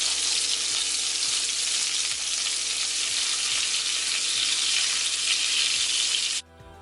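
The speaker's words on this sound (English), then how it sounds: "I'm just gonna allow the meatballs to just fry on each side for about 5 minutes" Meatballs fry in a pan with a continuous, even sizzle heard up close and alone, stopping abruptly just before the end.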